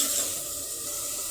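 Tomatoes frying in a pan while being stirred, a steady close hiss of sizzling with soft scraping, continuous through the short moment with no voices.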